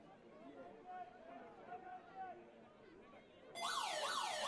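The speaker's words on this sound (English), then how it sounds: "There we hear the siren in the background." Partway through, a loud wailing siren sounds over the ground at a National Touch League touch football match, cutting in over steady commentary and crowd chatter.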